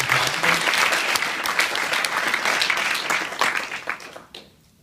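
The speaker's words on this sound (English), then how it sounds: "So let's give them a big round of applause" An audience at a Buffalo Startup Weekend event at UB gives a big round of applause, loud and sustained clapping for several seconds that then tapers off quickly into quiet.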